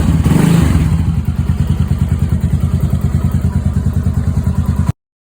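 A Loncin LX300GS motorcycle engine, freshly reassembled after rocker arm work, idles with a loud, even, rapid thumping beat that stops abruptly near the end.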